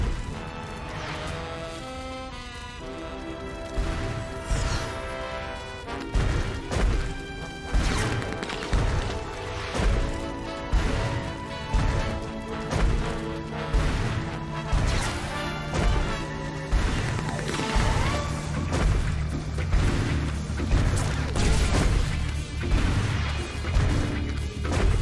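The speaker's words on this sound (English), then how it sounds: "pointlessly smashing everything in sight" Destruction across the city in the Sam & Max Season 3 video game, repeated crashes, whacks and thuds rising through a dense, loud orchestral score that plays continuously the whole time, no voices over it.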